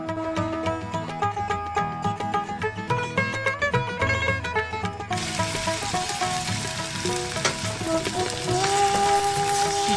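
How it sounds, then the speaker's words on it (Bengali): Batter-coated paneer pieces sizzle in hot oil in a pan, a continuous crackling hiss under loud background music that swells midway. "তেলটা গরম হয়ে এলে ব্যাটারে মাখানো পনিরগুলো এক এক করে গরম তেলে"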